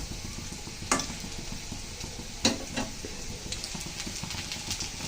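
Cauliflower fritters fry in hot oil with a steady, close sizzle, broken by a couple of sharp utensil clinks against the pan.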